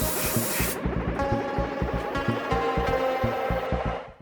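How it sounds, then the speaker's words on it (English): A sandblaster blasting a metal car battery tray, with a loud, steady, close hiss of air and abrasive that runs almost nonstop and pulses in a rapid rhythm, then cuts off at the end. "The sandblaster makes it really easy to get right into the corners without having to use sandpaper."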